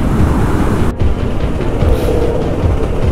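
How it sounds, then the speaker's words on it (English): Adventure motorcycle fitted with off-road tires crossing a metal grate bridge over a river, a dense, loud rumbling drone with a brief dropout, heard close up. "These type of metal bridges, the metal grate bridges, they make your bike kind of wag around quite a bit."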